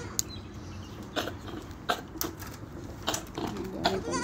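Goats on a farm give a few short, scattered bleats at close range, mixed with light clicks and handling noises.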